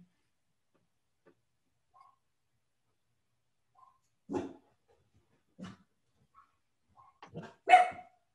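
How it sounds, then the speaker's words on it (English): A dog barks in a few sharp, separate bursts, fairly faint and somewhat distant, with quiet gaps between barks and no talking. "Well, that's my dog."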